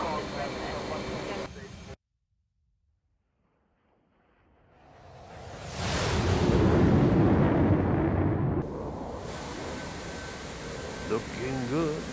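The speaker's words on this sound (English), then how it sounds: "Probably, they'll clear the bridge by the time the bomb hits" A GBU-16 bomb dropped from an F/A-18C strikes a bridge in the DCS World flight simulator. A brief hush breaks into one loud, deep blast that rumbles for about three seconds over the steady hum of the aircraft.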